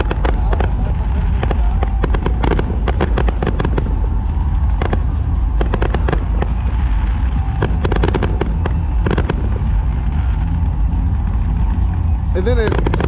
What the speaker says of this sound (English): looks like they're gonna have a nice fireworks show.